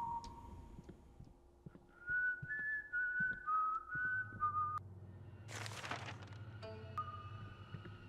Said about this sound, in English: All he does is whistle.